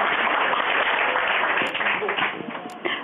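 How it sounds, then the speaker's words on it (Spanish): A seminar audience applauds two presenters with a dense, steady wash of clapping that fills the whole stretch and fades slightly toward the end. "un aplauso a Julio y a Pablo"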